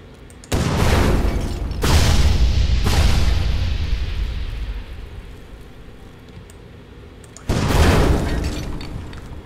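RPG rocket blasts boom in The Last Stand: Aftermath video game, three heavy explosions with long rumbling decay, the last one after a quieter pause, with no talk.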